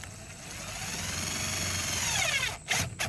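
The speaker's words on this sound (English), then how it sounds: "go ahead and pre-drill that hole" A power drill whines steadily as it pre-drills a hole for mounting a kayak paddle holder, its pitch shifting, then cuts off into a few short bursts.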